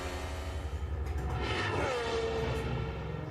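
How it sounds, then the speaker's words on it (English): A 2026 Formula One turbocharged hybrid engine in Pierre Gasly's car drones with layered harmonic tones, sweeping down in pitch midway before settling, heard at moderate distance without talk. "That is the sound of a turbocharged engine of Pierre Gasly."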